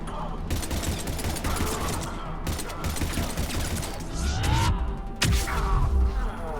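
Predator pistol gunfire in Mass Effect 3 amid a busy firefight, repeated sharp shots over a dense rumbling background of combat noise, with a couple of louder cracks near the end.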